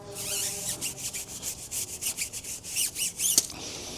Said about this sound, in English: you can actually almost see the tire dressing literally coming off as you're scrubbing